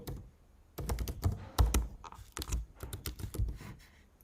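Password being typed on a computer keyboard, a quick uneven run of close, crisp key taps in short bursts with brief pauses, nothing else heard.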